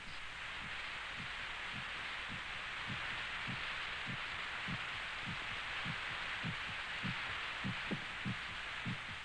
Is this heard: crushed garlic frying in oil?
no